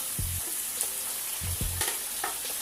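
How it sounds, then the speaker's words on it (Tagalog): Squid with its ink hits a pan of sautéed onions for black pansit, a steady close hiss of sizzling broken by a few low thumps and scraping stirs, with no voices. "dahil i-clear na ang sibuyas, ilalagay na natin ang pusit"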